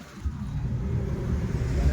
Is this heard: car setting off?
yes